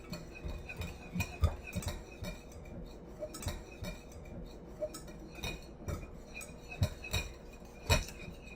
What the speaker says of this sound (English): Okay, and now I'm just gonna whisk this all up.